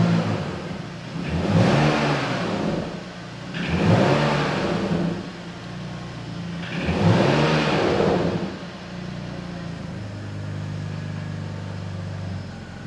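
A BMW E46 Touring's engine is revved three times on a cold start, each blip rising to a moderate climb of about 3000 rpm and falling back to a low, steady idle hum. The car is heard close up and no one speaks.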